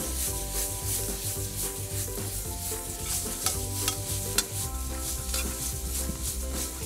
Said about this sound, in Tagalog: Toss lang natin yung ating shrimp.